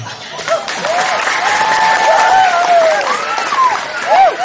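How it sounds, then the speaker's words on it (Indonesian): Audience at an Islamic comedic sermon in Indonesia applauds, a dense continuous wash of clapping from a crowd with high warbling whistles or cheers rising over it, loud and sustained. "tepuk tangan"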